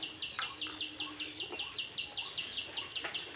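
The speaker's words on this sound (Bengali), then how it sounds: "এই পাখি ডাকছে পাখি কী পাখিটা ওটা" A common tailorbird calls faintly in the distance, repeating quick, sharp chirps in a steady, rapid rhythm.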